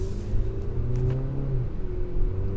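A 2019 Mazda3 Hatchback AWD pulls away in sport mode, its engine rising in a smooth mid-pitched hum over steady road rumble, heard from inside the cabin without talk.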